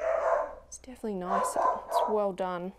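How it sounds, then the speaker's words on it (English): Dogs bark in short yips and woofs while a person talks over them, the barks sharp and close at intervals. "Excuse my dogs."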